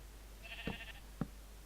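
Sheep in a survival video game bleat twice in quick succession, short nasal calls at moderate distance over a low steady background hum, with no talking.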